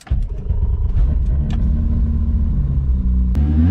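A car engine running steadily and pulling away nearby, a loud continuous low rumble with slight revving and a brief sharp click near the end.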